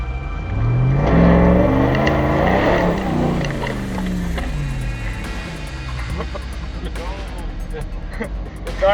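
A RAM TRX off-road truck accelerates on an obstacle course at an overland expo at night, its engine revving up then falling away with a swooping pitch, while people talk nearby.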